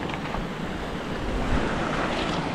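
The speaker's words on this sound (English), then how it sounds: "We're at another little river crossing." Water rushing at a small river crossing on a winter camping trip in New Zealand, a steady broad wash close by, mixed with wind buffeting the microphone, with no talking.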